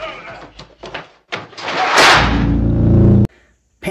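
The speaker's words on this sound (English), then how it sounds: "And then we get the iconic metal door slamming shut." A heavy metal sliding door in The Texas Chain Saw Massacre, 1974 film, rumbles shut and ends in a loud abrupt slam after scuffling and thuds.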